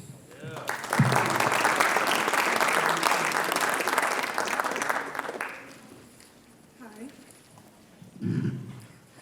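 Audience applause at a school writers expo, loud sustained clapping for several seconds that tapers off, then speech, with a brief bump of noise near the end.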